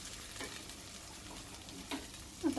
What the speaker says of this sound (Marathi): मसाला छान फ्राई झालेला आहे. हे बघा तेल सुटले साईडला,